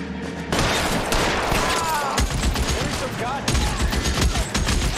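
Gunfire erupts in L.A. Noire as a dense, continuous exchange of shots in a street shootout, loud and close, with cracks layered over one another for several seconds.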